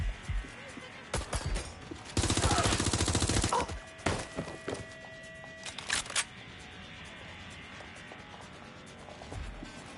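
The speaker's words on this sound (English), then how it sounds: "If they're using live guns on me, I'm using live guns on them" Gunfire in Watch Dogs Legion, a loud rapid automatic burst lasting about a second and a half amid scattered sharp shots and clatter, with a voice speaking over parts of it.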